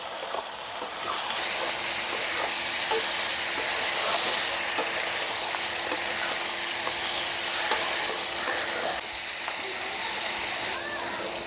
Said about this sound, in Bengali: সব মশলাগুলো একসঙ্গে কষিয়ে নেব।